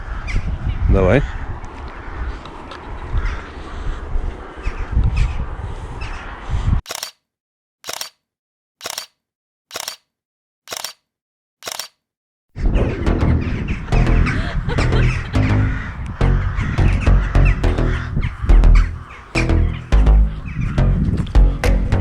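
Crows cawing near a cemetery, their calls mixed with people talking and a string of six sharp camera-shutter clicks in a quiet gap partway through.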